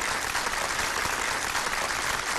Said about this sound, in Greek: Τώρα χειροκροτήστε.